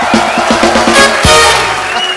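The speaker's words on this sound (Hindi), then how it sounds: "सनी बाजी और बॉबी बाजी के लिए जोरदार तालियां हो जाए।" Studio audience applause and cheering on a comedy talk show, dense and loud throughout, with rhythmic beats and tonal music layered underneath.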